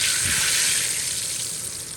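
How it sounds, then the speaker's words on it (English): Plantain slices for tostones frying in hot oil give off a steady, loud, close sizzle that holds evenly throughout and eases only slightly at the end. "my oil's nice and hot, and you're going to cook these until they're golden in color on all sides"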